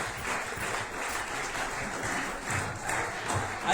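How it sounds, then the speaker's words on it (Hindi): Audience at a business company meeting applauds steadily, a dense, continuous wash of clapping that holds at an even level throughout, with no voices on top. "जोरदार तालियां मारेंगे, जबरदस्त तालियां मारेंगे साहब।"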